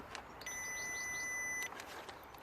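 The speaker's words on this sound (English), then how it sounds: "hope you can hear the beep" A single steady electronic beep from an electrical tester checking fuses on a Peugeot 1.6 e-HDI sounds for just over a second, clear and continuous, then stops, leaving a faint room background.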